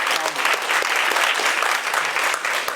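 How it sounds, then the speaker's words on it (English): An audience at a closing reception claps steadily and loudly throughout, a dense continuous wash of many hands applauding together. "please give Kev Harris a wonderful round of applause."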